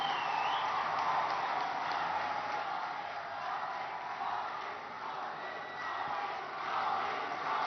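A large audience at an official foundation-stone event at IIM Sambalpur, Odisha, welcoming the Prime Minister, gives a sustained roar of applause and crowd noise that swells and dips slightly, heard from a distance throughout.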